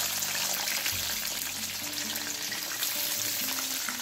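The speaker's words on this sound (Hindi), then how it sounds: "इसको डीप फ्राई करना है इनको" Red, yellow and orange bell peppers deep fry in hot oil, a loud, close, unbroken bubbling sizzle with faint music underneath.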